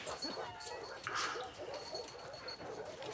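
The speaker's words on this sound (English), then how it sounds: "A dog." A dog whimpers and whines in The Last of Us Part II, soft yelps repeating over game ambience and background chatter.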